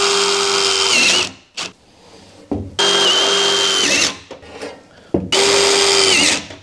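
A power drill drives sheet metal screws into an air vent duct in three separate bursts, each a loud, steady whine lasting about a second, with a short metallic clatter between bursts.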